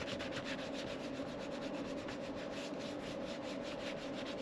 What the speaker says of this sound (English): you just use that single coating of mirror shine to really buff it out and give it that nice shine